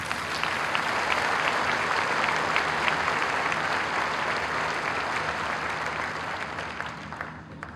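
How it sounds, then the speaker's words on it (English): A large audience at a 2008 high school commencement applauds loudly and steadily, dense clapping filling the hall for several seconds before gradually thinning toward the end. "I would ask everyone to help me recognize him with a round of applause"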